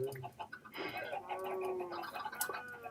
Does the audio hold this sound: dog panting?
no